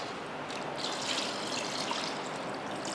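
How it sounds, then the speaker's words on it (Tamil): Water pours steadily over mutton in a pot with a continuous splashing gush, close and fairly loud, with no voices. "மட்டன் வேக வைக்கிறதுக்கு நல்லா கறி முங்குற அளவுக்கு தண்ணி ஊற்றியிருக்கேன்"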